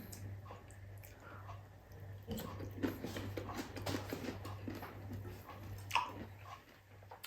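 Someone bites and chews crunchy green mango with bagoong, a quiet, close, irregular crunching and mouth noise with no talking.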